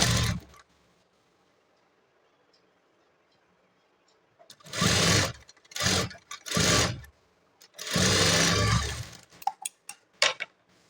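A sewing machine stitching a plain blouse runs in several short loud bursts separated by pauses, followed by a few quick clicks, after a long quiet stretch.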